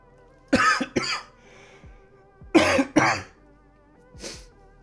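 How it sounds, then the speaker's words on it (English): A person with a returning cough and sore throat gives two close double coughs, harsh and loud, followed by a fainter short cough, with quiet gaps between them. "my cough has returned and my sore throat has returned"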